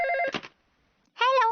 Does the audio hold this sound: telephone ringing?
yes